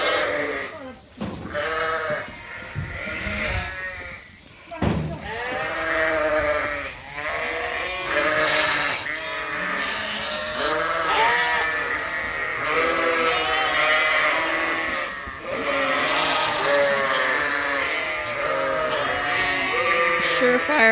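Sheep ewes bleat over and over in an overlapping chorus as they crowd a trough of leftover grain, loud and close, with some rustling and knocking in between.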